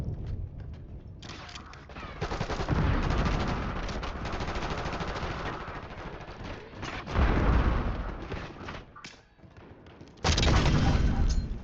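Call of Duty combat din: sustained bursts of automatic gunfire with heavy booming grenade blasts, loud and dense throughout, surging again near the end.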